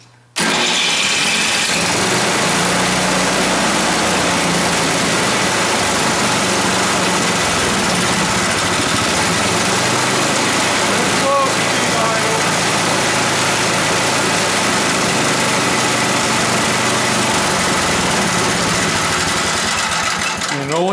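An Ariens snowblower engine runs steadily at about half throttle with the choke open, a loud continuous mid-pitched drone after a brief start, with a voice occasionally talking over it.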